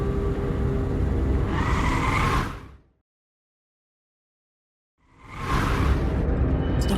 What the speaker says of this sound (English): Stopping the car in the middle of the bridge, Connor decided